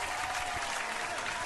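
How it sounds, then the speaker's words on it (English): A short burst of dense applause plays as a sound effect, with many hands clapping at a steady level the whole time. "That is a long ass clap"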